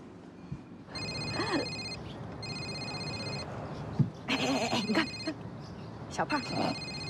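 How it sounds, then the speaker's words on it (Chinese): A telephone rings in repeated bursts, each with a high electronic trill, while people talk and react around it in an indoor scene. "小胖，哎，今天给我打了好几个电话"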